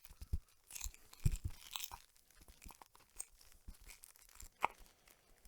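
Soft, close crinkling and rustling of plastic toilet paper packaging, with irregular crunchy bursts and light handling noises, quiet and intimate.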